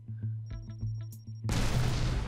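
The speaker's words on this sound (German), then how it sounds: "Gut, er explodiert." A time bomb in the blocky game Block N Load ticks with a few evenly spaced beeps, then bursts into a loud, sustained explosion roar.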